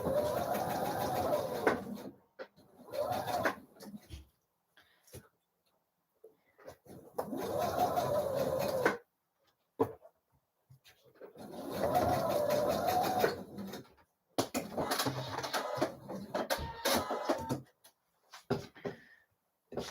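A sewing machine bastes pleats in place on a dress neckline, running in several separate bursts of rapid stitching, each a few seconds long, with quiet pauses between them.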